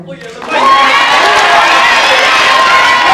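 Sudden burst of loud cheering, whooping and clapping from a large crowd at a Kwanzaa celebration held at a New Orleans high school, rising sharply after a quiet start and sustained with children's shouts mixed in.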